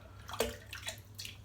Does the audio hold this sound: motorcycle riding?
no